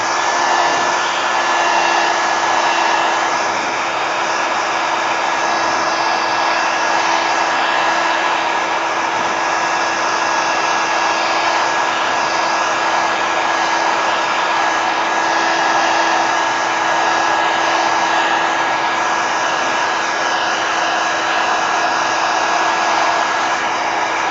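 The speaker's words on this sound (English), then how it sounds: "All right, heat gun." A heat gun blows at a constant pitch, a loud, even whoosh of air with a faint whine that continues without a break from start to finish.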